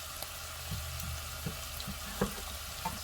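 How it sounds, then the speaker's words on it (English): Chopped apples sizzle in a pot of butternut squash soup, a quiet, steady frying hiss broken by a few soft clicks and stirring knocks, heard alone without talk. "We're gonna throw the chopped up apples in here."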